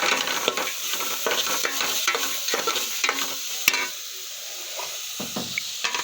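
A spoon stirs a rice mixture in a hot pan, scraping and clinking in an uneven rhythm over a steady sizzle, close and fairly loud with no talking.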